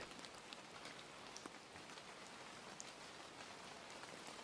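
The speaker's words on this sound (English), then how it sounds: "listening to the sound of the rain outside" Steady rain falls outside, a dense, even hiss of drops on surfaces with faint scattered taps, continuous and moderately soft with no voices.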